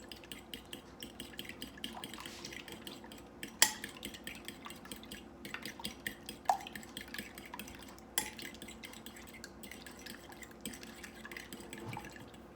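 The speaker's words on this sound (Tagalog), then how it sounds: "mix this into the ground beef" Ground beef being mixed with ingredients in a bowl for meatballs, a soft continuous squishing and stirring with occasional sharp clinks of a utensil against the bowl, close and fairly quiet, with no talking.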